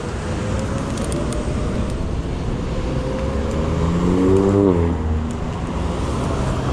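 A Hero S9 dual-motor electric scooter ridden on a single wheel and popping wheelies, a loud rushing roar of wind and road noise with an electric motor whine that climbs and swells midway.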